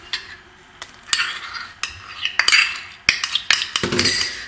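Brioche dough being worked by hand in a bowl, with repeated scraping, slapping and clinking strokes at an uneven rhythm, close and fairly loud, with no voices.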